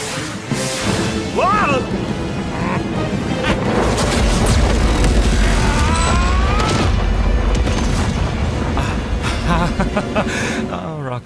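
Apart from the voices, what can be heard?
death ray firing and exploding, animated battle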